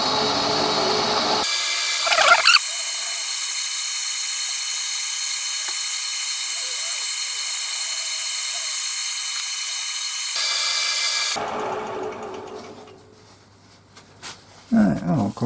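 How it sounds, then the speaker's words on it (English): A wooden cane is buffed with a power burnishing tool after polish has set, giving a steady high whine that runs for about ten seconds with brief catches at the start and a rougher, fading spin-down at the end. "I'm now just going to burnish it off a little bit."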